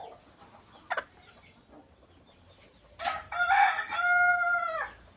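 A red native gavthi breeder rooster crows once at close range, a loud drawn-out cock-a-doodle-doo lasting about two seconds, preceded by a brief cluck and quiet farm background.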